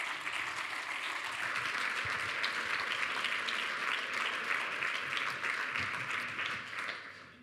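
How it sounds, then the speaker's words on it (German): An audience at a conference stage event in the Steiermarkhof applauds, steady dense clapping from a crowd at moderate distance that holds evenly and then fades out at the end. "Mit einem Applaus begrüße ich Sie recht herzlich"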